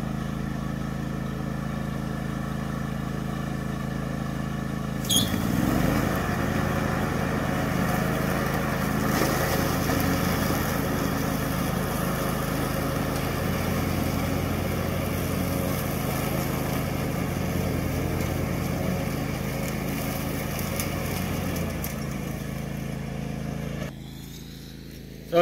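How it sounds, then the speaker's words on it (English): A steady engine drone like a lawn mower running nearby, loud and constant, with a jolt partway through and a drop in level near the end. "mower's getting a workout tonight."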